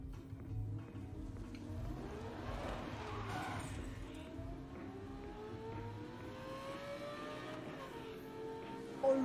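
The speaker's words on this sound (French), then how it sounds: "Le bruit du moteur, en vrai elle est sympa." A car engine revs and accelerates in the Need for Speed racing game, a rising whine that climbs through gears, with tire and dirt noise as it speeds along, heard fairly quietly.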